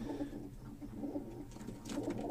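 A well-kept breeder pigeon coos softly in low, rolling murmurs over a faint, steady background, with a brief brighter rustle near the end.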